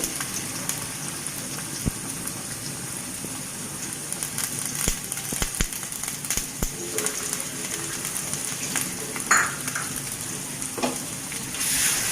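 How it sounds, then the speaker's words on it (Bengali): A ginger, garlic and cumin paste sautés in a hot pan while fish curry is being made, giving a continuous close crackling sizzle with a few sharp clicks and scrapes; no one speaks. "এইভাবে কয়েক সেকেন্ডের মতো মশলাটা আমি কষিয়ে নিব"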